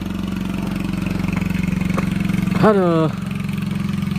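A motorcycle engine chugs steadily at a low, throbbing idle on a steep uphill village road, close and loud throughout, while a man briefly exclaims over it.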